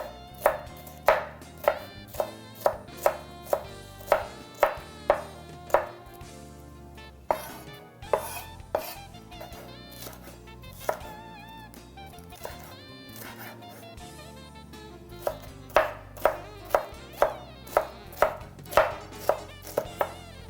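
A knife finely chopping garden green pepper on a board, fast regular close knocks in long runs with a brief pause midway, loud and alone without talk.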